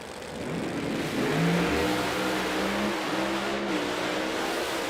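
An Outlaw Pro Mod drag racing car's engine roars and revs from a distance at launch in a final round, the pitch rising and falling over a steady mechanical drone.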